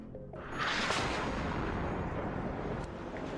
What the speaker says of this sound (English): Is that artillery? Yep.